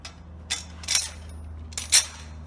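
Metal bolt, washers and nut being fastened together on an inflatable dock fitting, with a few sharp, close clinks and ratcheting clicks in short bursts over a faint steady hum.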